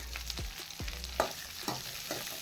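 Onions sizzle in a pan while a utensil scrapes and taps in several quick stirring strokes, close by, with no one talking.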